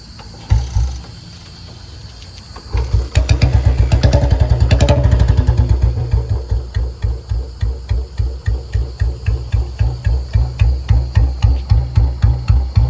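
Royal Enfield Bullet, a BS6 fuel-injected model converted to a carburettor, runs loud and close, revving hard before dropping to a steady, deep thumping idle with a regular single-cylinder beat.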